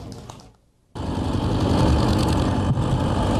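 Old tractors and trucks run in a museum tractor parade, a steady loud mechanical engine rumble with clattering texture that starts abruptly after a brief quiet gap and continues close by.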